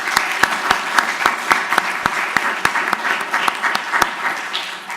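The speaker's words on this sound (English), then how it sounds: "Let's give them a round of applause." Steady audience applause at a conference session, dense clapping with a few sharper individual claps standing out, fairly close and continuous throughout before easing slightly at the end.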